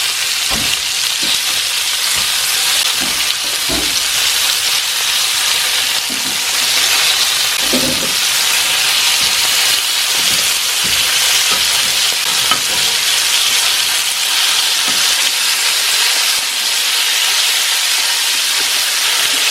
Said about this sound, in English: to build a bit of colour on the back fat piece before we start cooking the lamb through